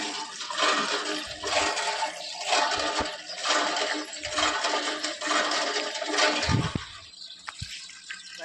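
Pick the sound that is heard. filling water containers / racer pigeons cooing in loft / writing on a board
filling water containers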